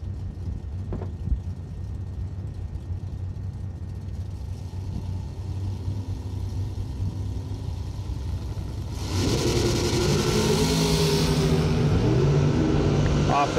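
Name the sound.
drag racing cars, a Mopar and an Opel, launching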